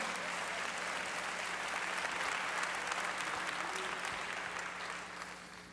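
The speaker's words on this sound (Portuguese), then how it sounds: "você gostaria de aplaudir ao Senhor?" A church congregation claps steadily at a Sunday worship service, dense sustained applause filling the room for several seconds before easing slightly toward the end.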